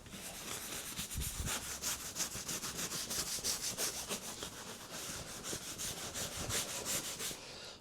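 Leather balm being rubbed by hand into a leather bag, a steady close scrubbing with rapid, rhythmic back-and-forth strokes throughout, with no talking.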